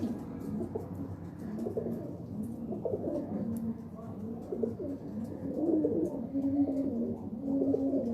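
Pigeons cooing on a rooftop in Faisalabad, a low, soft, continuous murmur of coos mixed with faint background activity and some distant voices.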